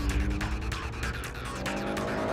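A sports car with ceramic brakes brakes hard from high speed, tires chirping and squealing over a loud engine and road rumble, close and continuous for a couple of seconds.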